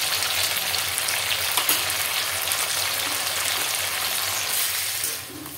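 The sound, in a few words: frying jackfruit curry ingredients in a pan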